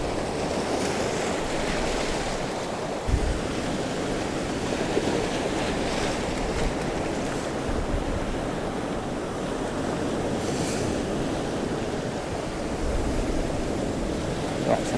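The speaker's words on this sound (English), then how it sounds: "I'm quite liking this with the waves coming up through these little channels" Sea waves surge up through narrow channels in coastal rocks, making a steady rushing wash with gusts of wind buffeting the microphone, continuous and close for the whole stretch.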